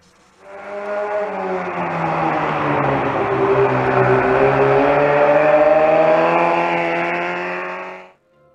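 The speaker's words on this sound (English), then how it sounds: "It's very unusual to see this mini bike that sounds like a sports motorcycle." A 125cc Honda Monkey mini bike with a four-piston engine revs loudly and steadily for about eight seconds, its sustained rising harmonics sounding like a sports motorcycle.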